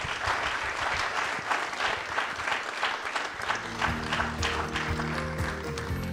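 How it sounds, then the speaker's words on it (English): An audience at a post-Covid health systems leadership forum gives a warm round of sustained hand-clapping for health workers, with tonal music notes rising under the applause in its second half. "can we give our health workers a hand clap as we take that break?"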